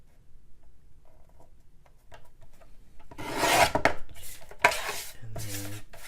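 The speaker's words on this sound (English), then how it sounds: "Let's just trim off some sides here." Card stock being trimmed for a handmade card, first quiet small handling taps, then a loud close burst of rasping cutting strokes and scraping slides.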